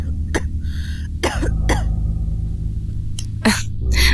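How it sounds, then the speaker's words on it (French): A man gives several sharp, close coughs and throat-clearing bursts spaced across a few seconds, over a low steady background hum. "Il s'est ensuite mis à tousser."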